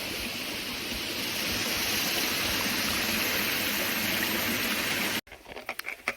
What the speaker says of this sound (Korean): 여기는 바위를 돌아가는 폭포길인 것 같습니다